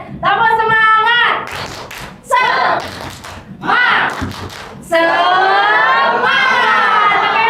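Adults at a school teacher-training session perform a group clapping chant, loud voices shouting in unison alternating with bursts of rhythmic hand claps, close and energetic throughout.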